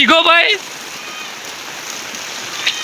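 Heavy rain pours down steadily on a cattle stable in a village, a dense continuous hiss that follows a short burst of voice at the start.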